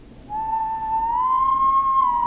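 In the video game Killer Frequency, someone whistles one clear sustained note that drifts slightly upward, close and alone against a quiet background.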